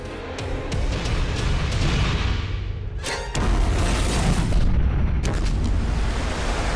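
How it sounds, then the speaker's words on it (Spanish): A cartoon explosion in a methane-filled chamber: a sustained roaring blast with rumbling, a brief cut, then a second loud burst of booming and crackling debris, loud and with no talk. "¡Una chispa podría causar una explosión!"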